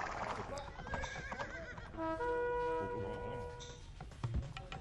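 A horse in a strategy video game whinnies loudly with a long, wavering neigh, followed by quick clip-clop hoof beats, while a commentator talks excitedly over the game sounds.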